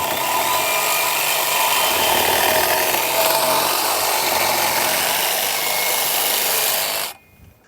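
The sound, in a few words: metal-cutting bandsaw cutting a steel trailer hitch tube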